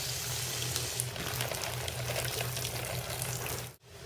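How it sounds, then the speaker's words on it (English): Steady rushing spray of water from a watering nozzle soaking a hanging basket, continuous and close, ending with a brief cutoff. "I can throttle my shutoff valve and get the water right into that basket, and I'm flooding it"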